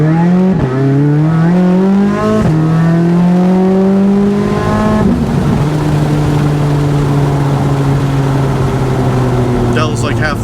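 A brand-new 2024 Corvette Z06 with a custom-built titanium exhaust accelerates hard, loud and close, its engine note rising through several quick upshifts before settling into a steady drone.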